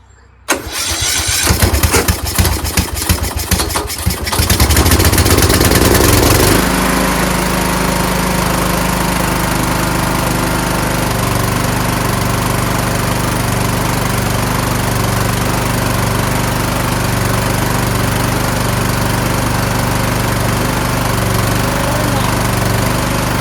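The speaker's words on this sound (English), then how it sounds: "this engine sounds great, doesn't it?" A Gardenway Troy-Bilt mower with a repowered MTD small engine cranks with a burst of sputtering, catches, and settles into a loud, steady close-up idle hum that carries on alone.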